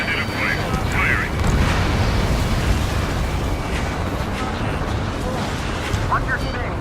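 An enemy aircraft bursts into flames in Ace Combat 7, a rumbling explosion layered with jet roar and radio chatter, loud and sustained across the scene.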